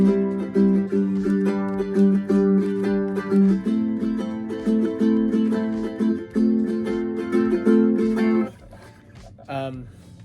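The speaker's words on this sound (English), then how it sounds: "This is an 8-string tenor ukulele by Oscar Schmidt and Washburn." An Oscar Schmidt 8-string tenor ukulele is strummed with full, shimmering doubled-string chords in a steady rhythm, then a final strum rings out and decays.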